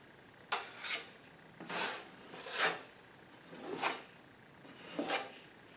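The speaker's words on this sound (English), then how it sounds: "take a bigger spackling tool that covers the entire edge, and you just rub it over the top like this" A broad spackling tool rubs spackle over a drywall hole patch in a series of five rasping strokes, evenly spaced about a second apart, close and fairly quiet with no talking.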